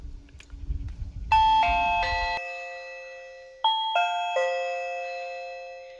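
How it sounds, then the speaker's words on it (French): A Reolink video doorbell chime plays a multi-note ding-dong melody twice, clear and close, ringing out in a quiet room. "Reolink m'ont envoyé la Doorbell, leur caméra de surveillance qui fait sonnette"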